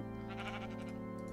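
A single drawn-out bleat from a sheep in a Minecraft-style video game, steady and tonal, lasting just over a second with no talk over it.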